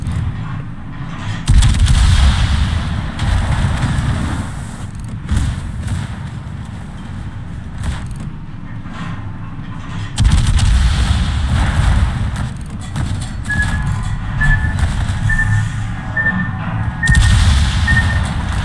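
Battleship main guns firing in the game World of Warships, with heavy booming salvos and sustained low rumbling that swells and subsides repeatedly, loud and continuous, with a faint beeping tone appearing partway through.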